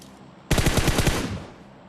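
Burst of automatic gunfire in the mobile battle-royale game PUBG Mobile, a rapid string of about eight loud, close shots fired over roughly a second, then tailing off, with no talk.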